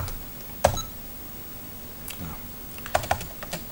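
Sparse clacking keystrokes on an old MSX computer keyboard, a few isolated presses spread out over a quiet background hiss.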